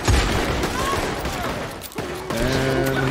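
Rapid video game gunfire pours into the back of a cave, a dense fusillade of shots with some tonal electronic whines and a brief lull before firing resumes, all loud and close.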